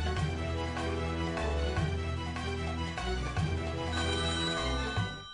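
A telephone rings on a Polish TV game show, a loud continuous electronic ringtone with repeating melodic bursts filling the moment, heard alone without talk.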